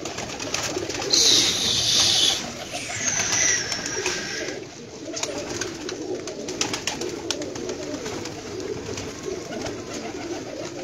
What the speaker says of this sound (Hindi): चंगे रंगा शंगा दे कबूतर ने।